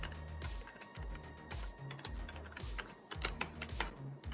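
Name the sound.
typing code on a computer keyboard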